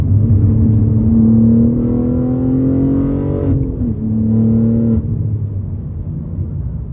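A BMW G80 M3 with a 4-inch modular midpipe revs hard under acceleration with its exhaust valves open, a loud, steady rising drone heard from inside the car, then a brief dip and a second pull before it eases off.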